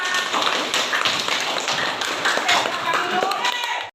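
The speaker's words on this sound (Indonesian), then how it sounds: "tepuk tangan buat kelompok 5" Classroom applause for a student group after their presentation, dense continuous hand clapping from many people throughout, fairly close and steady.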